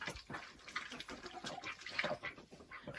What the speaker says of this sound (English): And then I fill up their water.